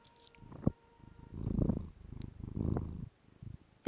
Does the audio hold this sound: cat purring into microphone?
yes